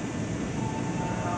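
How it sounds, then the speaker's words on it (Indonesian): Long-distance train passing straight through Bekasi station on track 5, a continuous heavy rolling roar of wheels and carriages, close and steady throughout. "kereta api berlintas langsung. Nah itu dia kereta api"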